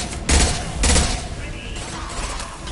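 Two heavy gunshots fired in Mass Effect Legendary Edition land close together as loud, broad bursts about half a second apart, each leaving a lingering tail. A gritty game ambience and faint combat noise follow.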